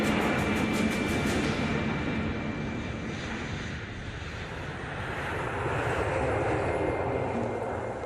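A passenger airplane departing Heathrow bound for Tokyo, its engines producing a steady, loud broadband roar that holds constant throughout with no voices.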